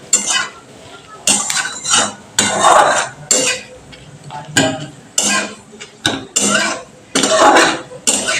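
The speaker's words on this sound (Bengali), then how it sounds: "এবার আমি একটু ভালো করে নেড়ে নিচ্ছি।" Metal spoon scraping and clinking around a pan as dry red chillies and nigella seeds are stirred in hot oil for a restaurant-style bhindi curry, in repeated close, fairly loud strokes with short pauses between.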